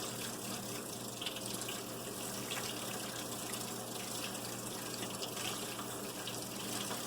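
Tap water runs steadily into a bathroom sink while makeup brushes and face tools are rinsed, a constant close hiss with no pauses or voices.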